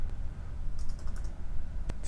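Dimensions being typed on a computer keyboard while drafting a model in SketchUp, a quick run of light key clicks near the middle and one sharper tap near the end, over a steady low room hum.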